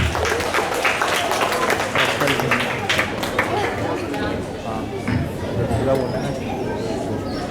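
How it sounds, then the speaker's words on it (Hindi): Crowd applause and chatter fill a school auditorium at an inter-house Hindi recitation competition, a dense, steady wash of clapping and murmuring voices lasting several seconds as the next student participant is welcomed. "कृपया जोरदार तालियों से उनका स्वागत करें"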